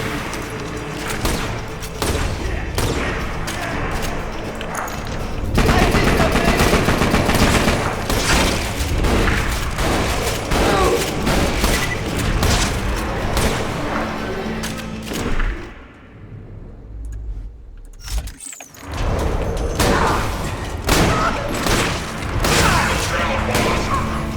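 Shotgun blasts from Borderlands 2, fired by Axton in Ultimate Vault Hunter Mode on Tundra Express, come as a loud, dense run of repeated shots mixed with other game booms, with a brief lull in the middle before the firing resumes.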